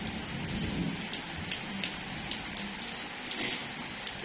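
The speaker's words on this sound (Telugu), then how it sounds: "లోపల బయట వర్షము" Heavy rain pours outside a village house during an evening storm, a thick constant wash with drip accents and low rumbling thunder underneath, nearby and unbroken.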